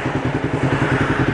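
A motorcycle engine thumps in a rapid, even pulsing beat while riding, close and steady with wind noise over it, no talk.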